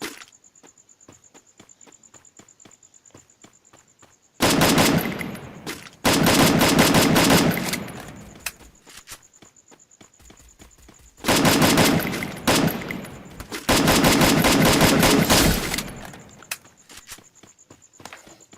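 Bursts of rapid gunfire in the game Free Fire, two long volleys, loud and close, separated by quieter stretches with a steady high electronic tone in the background.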